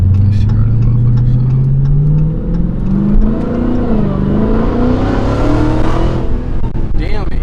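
A Dodge Hellcat with its mid muffler deleted revs in eco mode; a loud, close V8 drone climbs steadily in pitch over several seconds, then eases back, with the engine running continuously throughout.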